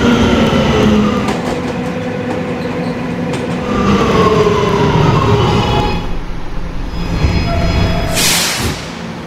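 A subway train in the Roblox game PTA Subway rumbles steadily with rattling wheels and a metallic squeal, then a hissing burst near the end as it slows.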